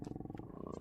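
A golden takin in the Vintage Story video game gives off a low, continuous rumbling growl with a steady pulsing texture, close and moderately loud, heard alone without talk.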